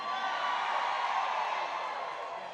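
A political rally crowd in California roars and cheers in a steady, dense wash of voices and whoops, loud and sustained throughout.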